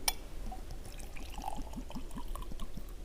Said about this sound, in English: I am going to pour in some water.